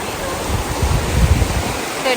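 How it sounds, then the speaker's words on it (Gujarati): A fast-flowing river rushes past as a steady, close broadband hiss of water, with low gurgles and splashes rising and falling through the middle. "નદી જો એકદમ વહેતું પાણી છે"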